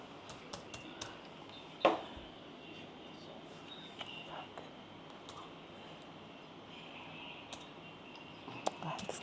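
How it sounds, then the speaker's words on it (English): Clicks of a new computer keyboard being typed on, a faint irregular patter of keystrokes in a quiet room with one sharper knock near the start. "That's the new keyboard."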